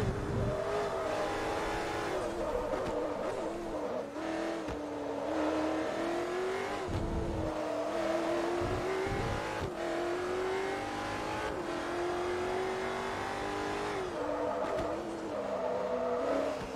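Racing engines of a McLaren F1 and a Maserati MC12 in Forza Motorsport 3, loud and continuous, revving up and down through gear changes in close pack racing, with occasional tire noise and no talk.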